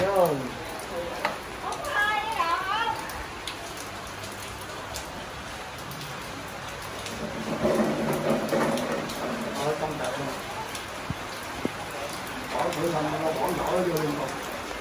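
Sudden rain falling steadily on surfaces in a Vietnamese setting, a continuous hiss of drops heard throughout while people talk and call out over it.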